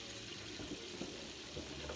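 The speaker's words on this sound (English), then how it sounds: "Now you see the water is boiling" A pot of water boils on the stove before rice is added, giving a steady, continuous bubbling and hissing wash that stays at an even level close by.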